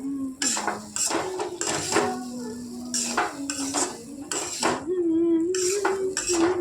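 Gram flour is stirred with okra and potatoes in a pan, producing repeated close metallic scrapes and clinks of a utensil against the pan in an uneven rhythm, over a faint low hum.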